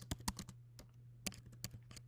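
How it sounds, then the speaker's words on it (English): Close, crisp keyboard typing in irregular bursts of clicks, with a steady low electrical hum underneath and no talking. "I'm just typing to nobody."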